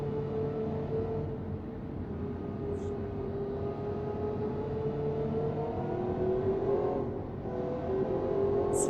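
A Ferrari engine in the Automation car game revs, holding a sustained, moderately loud engine drone whose pitch climbs slowly, dips briefly near the end, then rises again.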